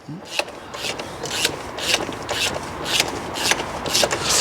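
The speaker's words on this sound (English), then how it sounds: "we use the tools, go in there to undo filter housing" Metal tools scrape and rasp in repeated short bursts while undoing the oil filter housing on a Ford ST during a garage service, close and fairly steady, with no talk over it.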